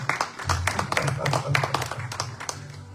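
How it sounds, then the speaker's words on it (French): A church congregation claps rhythmically in praise, many hands striking in quick repeated bursts with voices cheering and talking underneath, lively and fairly close. "Est-ce que tu peux acclamer le Seigneur?"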